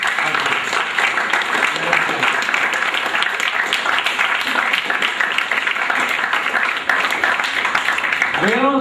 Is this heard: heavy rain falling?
no